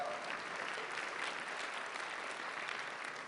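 Applause from an audience at a talk on China and global strategy, a steady wash of clapping held at an even level for a few seconds with no voices over it.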